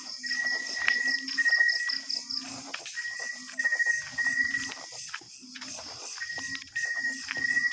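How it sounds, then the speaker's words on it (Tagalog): Crickets chirp steadily in a quiet night setting, their trilling pulses repeating in bursts with a faint low insect hum underneath and no talking. "pure na huni lang talaga ng mga kuliglig yung maririnig nyo dito."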